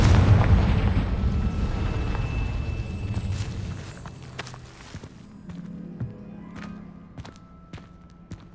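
A Confringo blasting spell goes off in Hogwarts Legacy, a loud rumbling burst at the start that decays into scattered softer impacts and crackles, with no talking.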